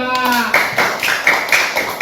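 A class of students claps hands in a classroom, a short burst of dense clapping with loud accented beats, while a teacher's voice talks over the start.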